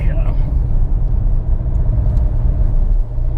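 A Ford Mustang GT350 on the move gives off a steady, deep exhaust rumble from inside the cabin. The drone stays constant and fairly loud, and a voice is faintly present.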